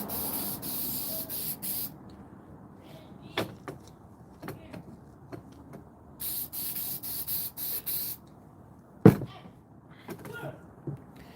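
Short hissing bursts of an aerosol spray can inside a 1984 Buick Regal, several in a row at close range, separated by brief pauses and handling noises.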